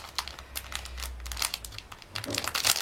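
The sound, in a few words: opening a small plastic sachet of stickers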